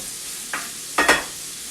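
Bacon being stirred in a hot frying pan: two short scraping swishes of the utensil through the sizzling fat, the second louder and longer, over a soft steady crackle.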